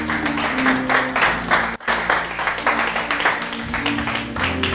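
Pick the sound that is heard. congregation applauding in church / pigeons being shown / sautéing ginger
congregation applauding in church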